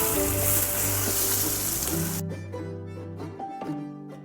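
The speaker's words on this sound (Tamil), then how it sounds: "வெங்காயம் வதங்கிட்டோம், உப்பு ஆட் பண்ணிக்குவோம்." Chopped onions fry with salt in a pan, a loud steady sizzle for about two seconds that then settles into a quieter crackle with a few stirring clicks and scrapes, no talking.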